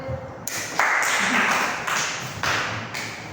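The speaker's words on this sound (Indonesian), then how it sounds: "Tepuk tangan untuk kalian." Classroom applause in bursts of clapping that start, stop and restart several times, close and fairly loud, with a voice heard between the bursts.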